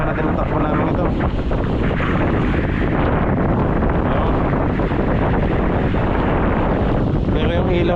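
A boat engine drones steadily in neutral during a sea trial, loud and constant with heavy wind buffeting the microphone and a voice talking over it.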